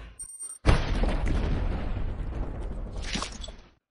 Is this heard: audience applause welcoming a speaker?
no